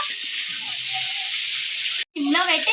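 Onions frying in oil in a pan for a green chilli chutney, a loud steady sizzle and hiss that cuts out briefly near the end before a voice is heard over it.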